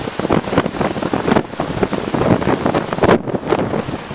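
Hurricane Sandy winds roar over a bay, loud gusting buffets battering the microphone with surging wave and surf wash underneath, continuous and rough throughout.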